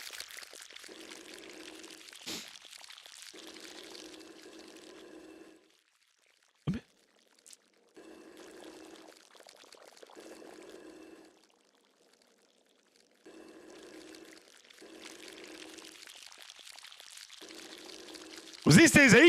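Soft watery splashing and trickling in the video game Creepy Tale 3, coming in repeated stretches separated by near-silent gaps, with one sharp click midway and a louder burst at the end.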